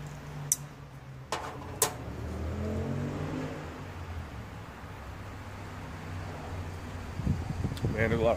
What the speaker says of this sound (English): Man, there's a lot of traffic out there today.